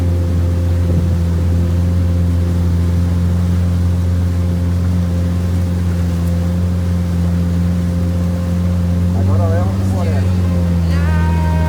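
A motorboat engine drones loud and steady near the water at Praia dos Namorados, with its pitch shifting near the end as it picks up speed.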